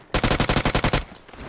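Automatic rifle fire in the video game PUBG Mobile: a tight, rapid burst of about ten loud, close shots in even rhythm, then a short fading tail.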